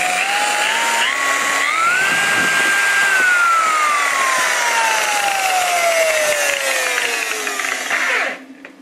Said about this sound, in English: This is a very, very good buffer.